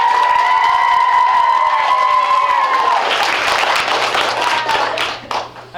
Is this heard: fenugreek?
no